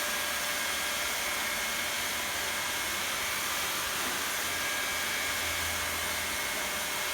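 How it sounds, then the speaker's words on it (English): A hot air welder blows steadily as it heat-welds a long vinyl sheet flooring seam through a high-speed nozzle, a loud continuous airy hiss that never lets up. "So I'm going to weld about 16 feet of seam in the time that I could have welded a 4-foot seam with a standard nozzle."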